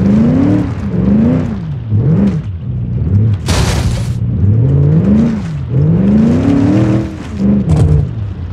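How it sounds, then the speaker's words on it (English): A V8 muscle car in BeamNG driving through deep river water, its engine loudly droning and surging up and down in pitch as it struggles, with a brief splashing burst in the middle. "So V8 muscle cars don't do well in deep water"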